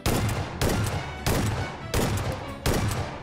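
An S12K shotgun fires in PUBG Mobile: five loud, evenly spaced blasts about two-thirds of a second apart, each with a short decaying tail, and no talking.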